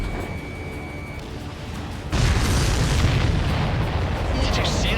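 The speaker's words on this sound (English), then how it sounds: "Did you see that explosion?" A loud explosion bursts in the Ace Combat 7 air-combat video game, a sudden heavy boom followed by sustained rumbling roar that swamps the faint engine drone underneath.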